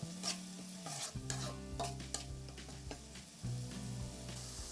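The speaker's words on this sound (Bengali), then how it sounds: "মশলাগুলো একটু ভালো করে মিশিয়ে নিচ্ছি।" Spices and salt stirred in a hot pan while cooking prawn malai curry, repeated scraping strokes over a steady sizzle and frying crackle, close and fairly quiet.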